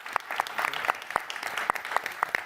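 Scattered audience applause after a panel at a Bloomberg Equality Summit session on financial security: about a dozen distinct hand claps, thin and fairly faint, spaced irregularly across the moment with no talk.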